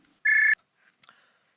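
On a radio call-in show, a telephone gives one short, clear electronic tone, followed by a couple of faint clicks in near silence.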